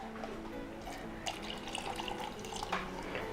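Vinegar pours steadily into a pan of Portuguese chicken being prepared in a home kitchen, a continuous liquid splash and trickle lasting a few seconds, close and moderately loud with no talking.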